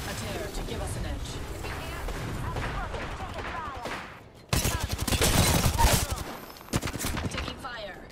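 Video game gunfire crackles in rapid bursts, first a dense rattling stretch, then a brief lull and a louder, sharper volley of shots; a voice is faintly mixed in.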